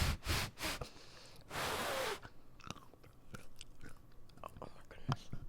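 Close, crisp crunching and chewing of crunchy candy, with a few loud bites at the start, then smaller scattered crunches and mouth sounds heard alone at low volume.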